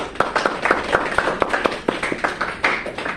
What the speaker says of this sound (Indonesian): Oke, kita tepuk tangan buat kita semuanya.